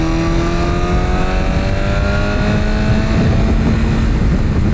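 A BMW S 1000 RR motorcycle accelerates hard to pass a truck, its engine note climbing steadily, loud and close under heavy wind rush, with no talk.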